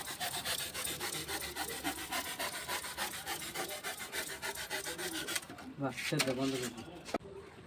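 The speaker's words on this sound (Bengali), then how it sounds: "এবার শোলাটা কিভাবে কাটছি দেখুন" Sola pith is cut by hand for a window box craft piece, giving a steady run of quick, rhythmic rasping strokes close by, followed by a few sharper, irregular scrapes near the end.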